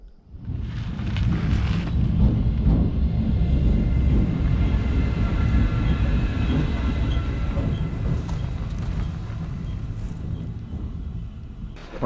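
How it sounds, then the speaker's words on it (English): A freight train rumbles steadily and loudly for the whole stretch, a heavy continuous roar of rolling wagons and locomotive with no voices. "But there is locomotive sound."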